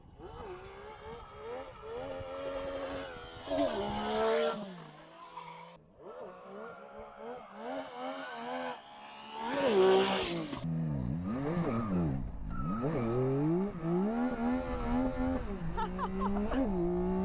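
A Yamaha Tracer GT motorcycle sliding under acceleration, engine revving and wailing up and down in pitch with tire scrub, close and continuous, with a voice talking over it.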